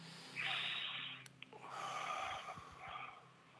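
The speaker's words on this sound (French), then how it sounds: "Une respiration." A person takes a slow, deep breath close to the microphone: an airy inhale, a short pause, then a long audible exhale with a soft hiss in a quiet room.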